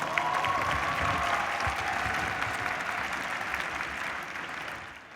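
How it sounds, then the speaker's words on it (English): A stadium crowd of university graduates at a morning commencement breaks into sustained applause, a dense wash of clapping that stays loud throughout and fades slightly at the end. "Give yourselves a round of applause"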